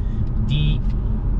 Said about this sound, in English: right now I'm driving this car in sport mode